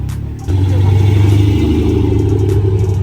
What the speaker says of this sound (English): One of the Sierras leaving.